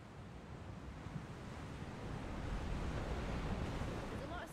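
Ocean water and surf in Final Fantasy XVI, a continuous wash of waves and wind that swells slightly louder toward the end.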